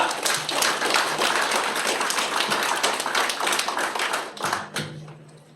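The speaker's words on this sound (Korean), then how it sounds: "자 박수로 맞이하겠습니다." Audience applause at an environmental protection association's annual general meeting, a dense wash of steady clapping from a seated crowd that swells and then tapers off near the end as the next speaker steps up.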